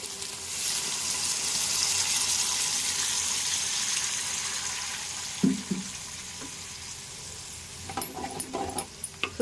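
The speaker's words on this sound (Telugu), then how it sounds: "ఇప్పుడు మనం నీళ్ళు పోసుకోవాలి" Water is poured into a pan of cluster bean and tomato curry cooking in oil, with a broad hiss and sizzle, a brief splash, then a few sharp utensil clinks near the end.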